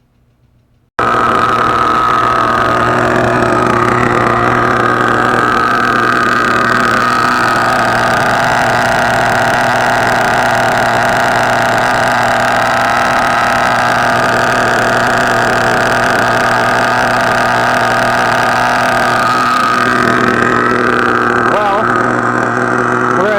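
Nitro engine of an HPI Savage RC truck idling through its first break-in tanks, a steady, loud, high buzzing drone that holds from about the first second to the end. Voices talk over it.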